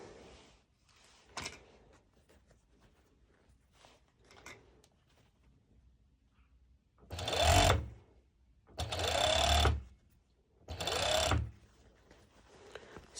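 Serger sewing machine stitching a stretchy band of fabric, three loud, close bursts of rapid mechanical whirring, each about a second long and separated by pauses, after quieter handling noises.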